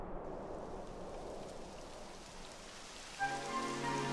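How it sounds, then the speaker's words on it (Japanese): Steady rain pours down in a Dragon Quest XI S game scene, a broad even hiss of drops on surfaces that holds for the whole stretch, with a brief musical chime entering near the end. "やだ、雨が降ってき。"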